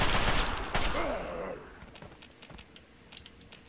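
Bursts of gunfire in the Fallout 3 video game, loudest in the first second and a half, then fading into scattered faint pops and ticks.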